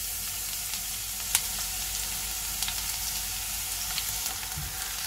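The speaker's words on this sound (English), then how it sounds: "Cook garlic for few seconds." Finely chopped garlic fries in hot oil in a pan while making a paneer masala curry, giving a steady, close crackling sizzle. Occasional light clicks and pops come through, with no talk.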